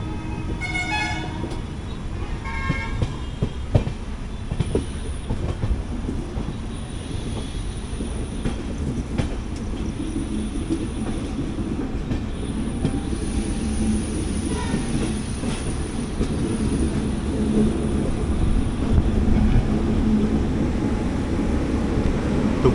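The Udyan Express pulls into Bengaluru City Junction with steady rumbling and clattering of rail cars, and a horn toots early on. Station noise carries throughout, and no one speaks over it.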